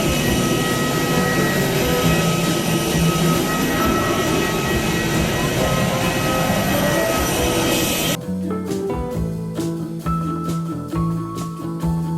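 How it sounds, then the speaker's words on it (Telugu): A loud, close aircraft engine roars steadily for several seconds, then gives way to a quieter, more tonal mechanical hum. "మీరు ఎప్పుడైనా విమానాల ఇంజన్ సౌండ్ దగ్గర నుంచి విన్నారా? ఇగో ఇలా ఉంటుంది."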